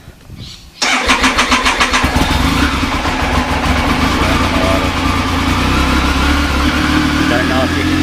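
An engine cranks and catches after a quiet moment, then settles into a loud, steady idle with rapid rhythmic pulsing close by, on a car fitted with an electronic dash whose gauges are driven by stepper motors.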